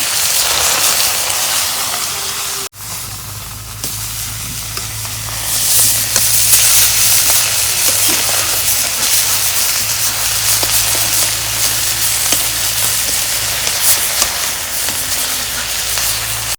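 Small bata fish hitting hot oil give a sudden burst of sizzling that settles into a dense, steady, rain-like hiss, loud and close, without any talking.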